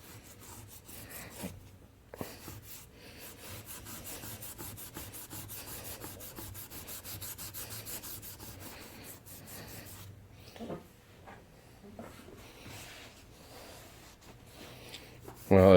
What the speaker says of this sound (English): Let's get some of the surface rust off.